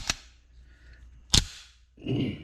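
A Walther Q5 Match pistol trigger breaks with a sharp metallic click, heard twice as close, crisp snaps with quiet pauses between them, followed by a brief low rustle of handling.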